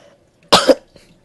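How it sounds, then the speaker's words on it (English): A single sharp cough, close and loud, followed by a faint breath in a quiet room. "that was a partially real cough."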